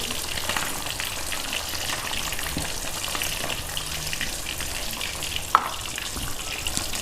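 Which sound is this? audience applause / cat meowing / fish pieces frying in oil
fish pieces frying in oil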